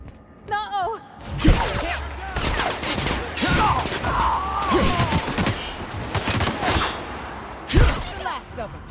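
Gunfire in the sci-fi video game The Outer Worlds, rapid bursts of shots and whooshing weapon sounds mixed with shouted character voices and grunts across a loud battle scene.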